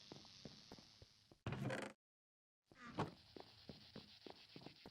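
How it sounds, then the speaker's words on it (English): Insect-like buzzing and chirping from a cicada in the Twilight Forest of modded Minecraft, a continuous high drone with faint ticking steps, broken by a short burst of noise and a moment of silence before the buzz resumes. "Are those cicadas or a machine noise? It's actually a cicada."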